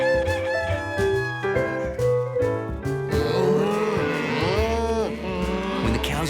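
Several cartoon cows moo loudly in overlapping calls, with a rooster crowing among them, a busy farmyard chorus close by.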